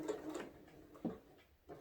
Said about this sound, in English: I'm going to go ahead and start sewing.